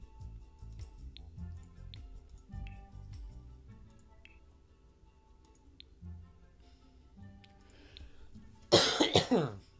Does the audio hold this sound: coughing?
yes